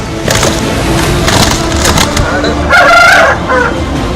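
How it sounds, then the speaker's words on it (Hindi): Roosters being pitted against each other cluck and squawk amid scuffling and flapping, with a sharp rooster call rising midway over a busy, noisy background. "आपस में इन्हें भिड़ाकर ये देखा जा रहा है कि ये मुर्गे लड़ भी सकते हैं कि नहीं"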